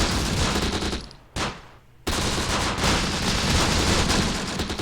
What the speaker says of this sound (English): We're still going to open up fire on the platoon.